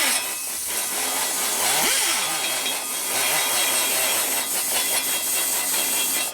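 A rotary tool ports a 1974 74ci Harley shovelhead cylinder head at low speed. It gives a steady close buzzing grind whose pitch shifts as the bit moves in short back-and-forth strokes, with no talking.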